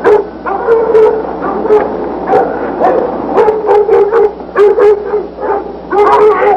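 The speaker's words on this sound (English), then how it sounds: "The dogs are hot on the trail, chasing the deer in this direction." Hunting dogs chasing a deer give a loud, continuous chorus of overlapping yips, howls and bays, with excited bursts rising and falling and no pause.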